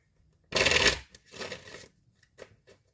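Tarot cards being shuffled up close: one loud riffling burst, then a softer second shuffle and a few light taps as the deck settles.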